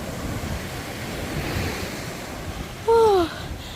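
Ocean waves wash steadily onto a sandy beach, a soft continuous surf with wind noise and a short burst of another sound near the end.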